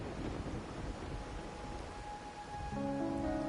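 Steady rain hiss in the video game Wuthering Waves, a dense even wash under soft tonal music that swells near the end.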